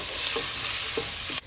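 Smoked paprika sizzling in a cooking pot for a Cape Verdean beef and bean broth, a steady loud fry with a few soft stirring scrapes, no voices.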